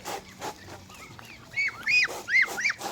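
Farm ducks being raised for sale in the provinces give bursts of loud, nasal honking calls, several overlapping near the end, over quieter background sounds.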